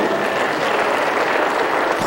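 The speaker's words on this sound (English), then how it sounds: "Give him a round of applause." A live audience at a hip-hop stage show claps loudly and steadily. The dense applause fills the moment without a break, close and full.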